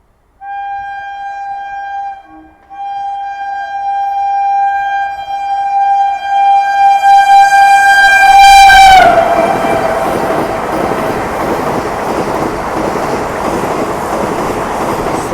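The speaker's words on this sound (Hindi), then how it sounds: "देख सकते हो क्या हॉन्किंग हुए भाई साहब" A Vande Bharat Express passes on an Indian rail line, sounding its horn in long sustained blasts whose pitch drops as it goes by, then the loud rush and rumble of the coaches continues steadily close by.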